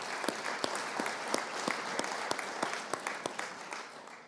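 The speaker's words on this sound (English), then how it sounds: "that is worthy of a clap and a round of applause." Audience applause at a community summit celebrating the tenth anniversary of a fund: steady clapping from a sizable crowd in a hall, with sharp individual claps standing out over the dense patter, sustained throughout.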